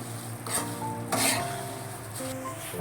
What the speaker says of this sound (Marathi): आता मनुके पण घालून घ्यायचे, चांगलं मिक्स करून घेऊया.